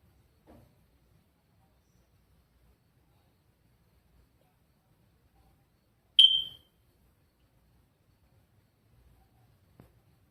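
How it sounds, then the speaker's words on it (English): A smoke detector gives a single short, high chirp in an otherwise very quiet room, with only faint soft knocks before and after. "It's called a smoke detector."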